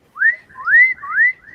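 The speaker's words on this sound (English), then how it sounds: "do that whistling kind of weird sound" A caged pet animal makes three rising whistles in a row, clear and close with short gaps between them, and no other sound around.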